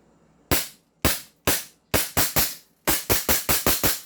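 An airsoft pistol, a 2011 Hi-Capa or a Umarex Glock 17, fires about twelve sharp, close snapping shots. The shots start slow and evenly spaced, then come in quicker bursts near the end, with no talking.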